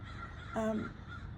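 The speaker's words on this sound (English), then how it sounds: "It's when the crows fly to wherever crows fly to at the end of their day." Crows flying over a house near a bay estuary at dusk, one clear caw ringing out against a quiet background.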